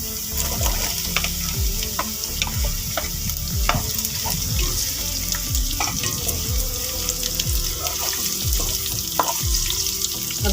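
Potatoes frying with softened onions in a pan: a continuous close sizzle with scraping stir clatter and small knocks throughout, no talking.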